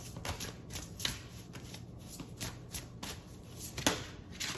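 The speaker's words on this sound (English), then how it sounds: "I'm just trying to shuffle a little bit away from the camera because I know it can get a bit loud" Tarot cards being shuffled by hand, producing repeated crisp riffling bursts and soft slaps at an irregular pace, close and moderately quiet.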